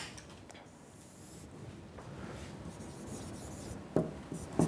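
Marker or chalk writing on a board in a continuum mechanics lecture hall, a soft continuous scratching and rubbing with two brief louder taps near the end, no talk over it.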